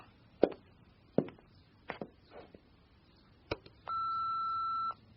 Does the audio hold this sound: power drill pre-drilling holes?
no